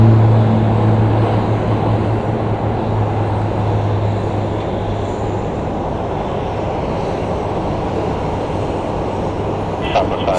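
A small airplane taking off from an airport runway, a loud steady engine drone with a tonal hum that slowly shifts pitch as it pulls away.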